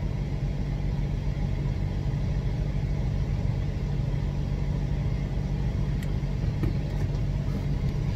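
A 2003 Mitsubishi Montero crawls along in low-range four-wheel drive with its engine giving a steady, close, low rumble throughout. Nobody speaks, and a few faint clicks surface near the end.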